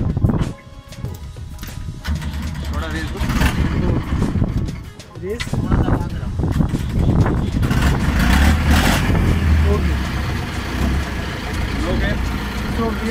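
Diesel engine of an Escorts Hydra 14 crane cranks, starts and revs as the heavy machine begins driving, a loud rumbling clatter close by, with a person talking over it.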